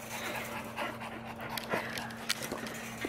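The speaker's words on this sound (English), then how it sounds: "this is my dog" A dog pants steadily and close by, quick rhythmic breaths continuing throughout with a few small whimpering sounds mixed in.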